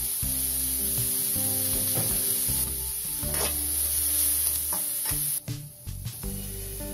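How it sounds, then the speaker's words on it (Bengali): Vegetables including chopped bell pepper, lightly salted, fry in a pan for vegetable fried rice, giving a steady close sizzle with repeated stirring and scraping clatter throughout, briefly dipping near the end. "দেখতে পাচ্ছেন আমি সবজিগুলো ভেজে নিচ্ছি।"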